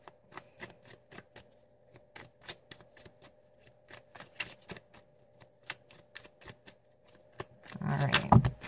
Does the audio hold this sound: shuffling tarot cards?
yes